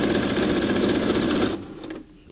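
A straight-stitch sewing machine runs steadily through fabric for a dog dress, a close, fast, even whirring that stops abruptly near the end, leaving brief faint handling noise.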